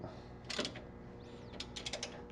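Bolts on the front sway bar bushing brackets of an Aston Martin DB9 are tightened, giving a few close, brief metallic clicking and creaking bursts with short pauses between them.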